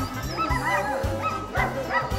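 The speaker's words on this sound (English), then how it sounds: "when they spot that the Rangers are about to do a demonstration but are only going to use about 5 dogs, they all get wildly excited" Sled dogs at a Denali National Park ranger kennel bark and yip excitedly in repeated short bursts, fairly close and lively, with a few whimpering notes between barks.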